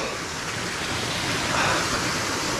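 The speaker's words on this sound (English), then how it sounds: "Alright, so this is the waterfall." Waterfall beside a mountain bike trail in Sierra County, California, producing a steady, loud broadband rush of falling water that holds unchanged throughout, with no voices.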